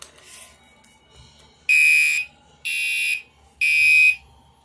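A fire alarm with duct tape inside it blares in three loud, piercing bursts, each about half a second long with short silent gaps between them.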